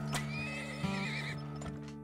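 A horse whinnies once in the strategy game Turmoil, a clear rising-and-falling neigh with soft hoof clops around it, close and loud with no talking.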